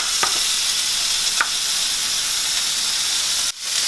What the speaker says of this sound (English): now we got some steaks cooking